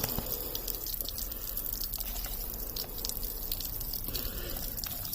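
Water runs into a plant feeder tank as it fills, a steady low trickle and splash with scattered drips, continuous and fairly quiet throughout.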